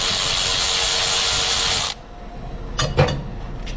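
A ratchet works 13mm bolts on the A/C compressor of a 2003 GMC Sierra/Chevy Silverado 2500HD with an 8.1L engine. Steady buzzing clicks are followed by a pause and a few close, sharper ratcheting bursts.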